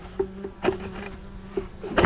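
A single small bee crawls out of a gap behind a piece of wood, buzzing close by as a steady low drone with a few brief louder bumps and scrapes.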